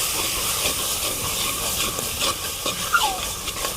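Roasted eggplant oro being stirred in a pan on a farm, a steady steamy hiss with soft scraping stir sounds and light sizzling throughout, no talking.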